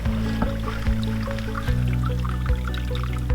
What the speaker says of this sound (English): that water from that hill is running down, and you can hear it bubbling under the basketball hoop.